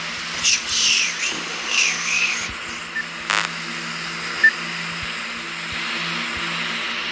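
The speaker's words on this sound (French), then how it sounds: "une sorte de bruit de ventilateur qui souffle hyper fort" A loud, steady whooshing like a fan blowing hard fills the clip in the video game Five Nights at Maggie 4, with a low hum beneath and occasional brief bursts and puffs.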